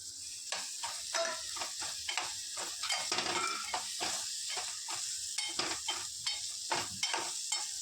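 Potatoes stir-fried in a home kitchen pan with homemade Malvani masala, for a Konkan wet cashew vegetable dish: a steady sizzle broken by repeated scraping stirs, close and fairly loud, with no talking.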